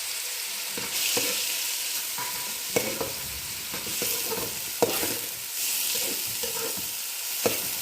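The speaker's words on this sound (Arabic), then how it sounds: "مثل ما انتم شايفين هلا بصب البصل" Onions sizzling in hot oil in a home kitchen pan, a steady close frying hiss with occasional stirring scrapes and clinks as they cook.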